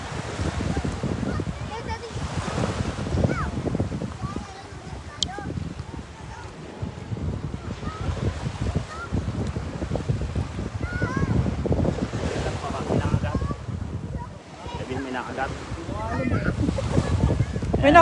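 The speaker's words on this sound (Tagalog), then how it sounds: "Sarap ng hangin dito." Steady gusts of seaside wind buffet the microphone over continuous surf and wash, with people talking and calling out close by throughout.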